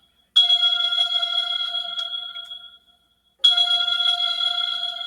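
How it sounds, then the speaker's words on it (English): A phone rings with a bright electronic ringtone in a home kitchen, two long tonal bursts separated by a short silence, loud and clear with no talking. "Let me get that phone."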